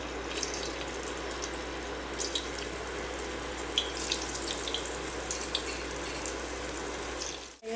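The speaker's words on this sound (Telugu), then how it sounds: "హీట్ అయిందని ఇప్పుడు మనము మష్రూమ్స్ వేసుకుందాం." Mushrooms frying in hot oil for mushroom manchurian give a steady, close sizzle with scattered crackles and pops. No one talks, and the sound cuts off abruptly at the end.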